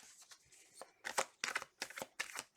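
Tarot cards being shuffled by hand, a run of crisp riffling bursts and soft slaps repeating in quick succession, close and fairly quiet, with no voice.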